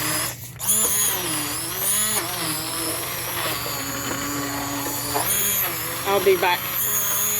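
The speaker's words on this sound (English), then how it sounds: "Backup stick blender" Stick blender mixing banana bread batter, a continuous close motor whine with shifting pitch as it works through the mix, with a voice speaking briefly over it.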